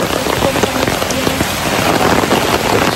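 Steady, dense rain falling and pattering on surfaces nearby, a loud, unbroken hiss with no voices over it.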